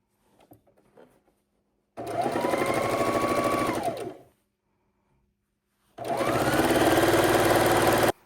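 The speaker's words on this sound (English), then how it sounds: "we're going to sew our 1/4 inch seams, making sure we always are aligning this back side, right sides together" Sewing machine stitching quarter-inch seams on scrappy quilt pieces, two close whirring runs of about two seconds each separated by quiet pauses, with soft fabric handling before the first.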